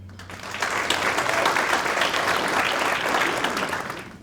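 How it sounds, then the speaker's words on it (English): Applause from a banquet audience honoring athletics Hall of Fame inductees, swelling after a brief quiet start into sustained, dense clapping from a large room before tapering slightly at the end. "So let's give them another big round of applause."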